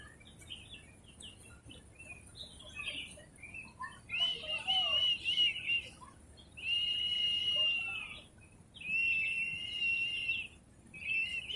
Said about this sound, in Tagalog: pakinggan nyo lang yung sounds ng ano, mga ibon